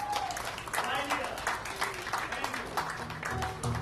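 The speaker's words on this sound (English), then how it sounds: "let's give a big round of applause" An audience at an international Gujarati film festival applauds an award winner with a dense, continuous wash of clapping, while a voice talks over it.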